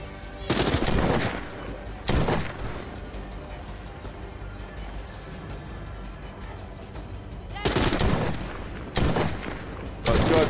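Bursts of automatic gunfire in a shooter video game, loud rapid volleys in several separate clusters with quieter gaps between, close to the listener.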